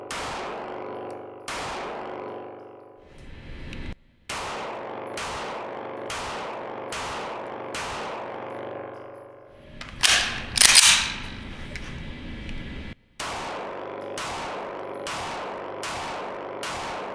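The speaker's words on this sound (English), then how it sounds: "Let's take some shots and let's see what it's like." Pistol shots from an H&K P2000SK fitted with a GrayGuns flat trigger, about a dozen sharp reports at a steady, deliberate pace, each trailing off with echo, plus a brief bright metallic rattle near the middle; no talking.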